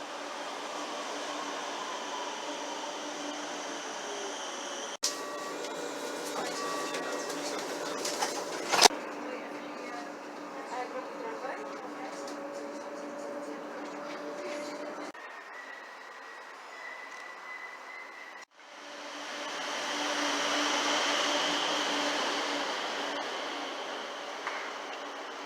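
Ride aboard an RET subway train in Rotterdam, a steady faint rumble and hum of the carriage with brief clunks and shifts in tone, and a louder whooshing rush near the end.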